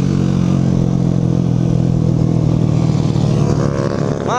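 Moped (mobilete) engine revving steadily while being ridden at night, a loud, continuous buzzing drone close by, holding high revs before easing off at the very end, with no talk.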